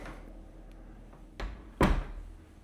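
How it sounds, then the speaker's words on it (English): A door in an 1,100 square foot prefab home opening onto a hot water heater closet, with a soft knock followed by a louder thump near the end over quiet room tone. "Now, I'm going to open this door because I already know this is where the hot water heater is."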